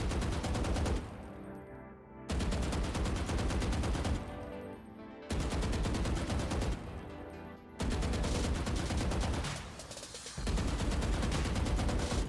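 Automatic weapons in the tactical shooter Valorant fire in long sustained bursts, loud and close, with four or five continuous strings of rapid shots separated by brief pauses and no talking.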